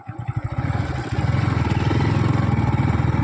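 A motorcycle engine idles steadily close by before being parked, a continuous low, even chug after an initial uneven burst of throttle.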